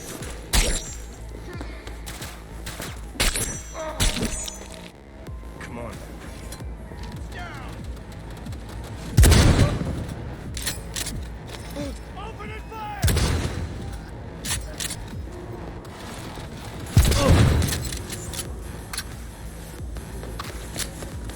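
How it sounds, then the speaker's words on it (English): Gunfire in the video game Cyberpunk 2077, with a few heavy, booming shot bursts spaced several seconds apart among scattered clicks and thuds, with spoken dialogue running underneath. "Opening fire!"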